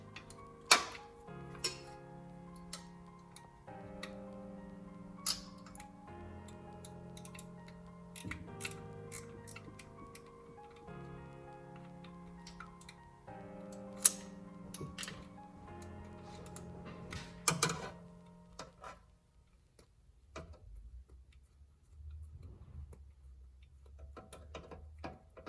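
On a 2014–2020 Acura MDX with a 3.5L V6, a ratchet loosens the timing belt tensioner bolt. Fast, quiet, close clicking runs in bursts, with metallic ticks and a few sharper knocks, then tapers off near the end.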